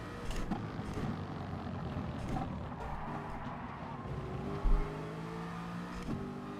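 A McLaren race car engine in GT Sport drones and revs as the car laps the track, its pitch rising and shifting between gears under steady road and wind noise, with a voice talking faintly at the start.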